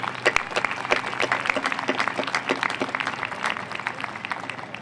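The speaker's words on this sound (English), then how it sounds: "a big thank you and applause for them for organizing" Warm audience applause at a community thank-you event for therapy dogs in Newtown, a crowd of hands clapping steadily and fairly close for several seconds, with no voices over it.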